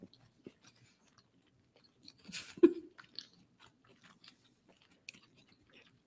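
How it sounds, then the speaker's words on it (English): Close-up chewing and biting of taco truck food right into a microphone, soft crunchy mouth sounds scattered over several seconds with one louder bite in the middle, otherwise quiet. "I'm just going to chew into the microphone."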